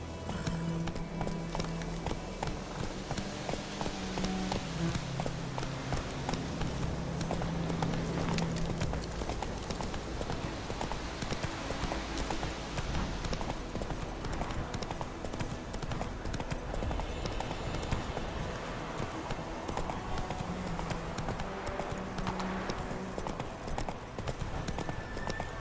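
Roach the horse galloping through Kaer Morhen in The Witcher 3, with a steady, continuous clip-clop of hooves at moderate volume.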